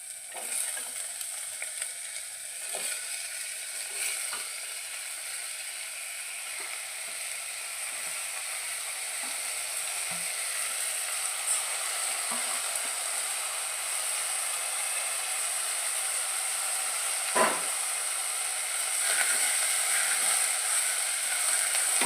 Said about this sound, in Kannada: ಹೀಗೆ ನಾವು ಪೂರ್ತಿಯಾಗಿ ಇದನ್ನು ಎಣ್ಣೆಯಲ್ಲಿ ಫ್ರೈ ಮಾಡ್ಕೋಬೇಕು.